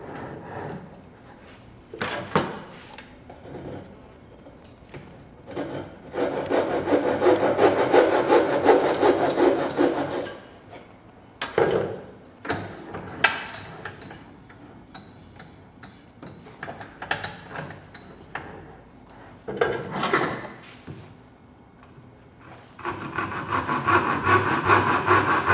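Hand saw cutting the shoulders of a dovetail halving joint in wood, with bursts of steady back-and-forth rasping strokes separated by short pauses, close and fairly loud with no talk.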